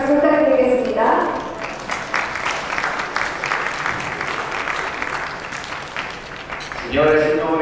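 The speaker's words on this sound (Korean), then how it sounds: "박수 부탁드리겠습니다." Audience applause at the Lamborghini Urus SE launch event in Seoul, a dense sustained round of clapping from a large crowd lasting several seconds, framed by a presenter's amplified voice at the start and end.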